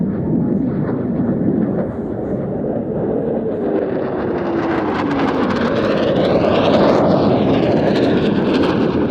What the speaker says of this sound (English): any jet fighter will slow down during a maximum rate turn, even on full afterburner